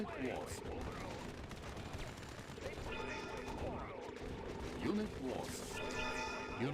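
Heavy machine gun fire in the strategy game Yuri's Revenge chatters in repeated bursts against distant explosions and battle noise, fairly faint, while someone talks over it.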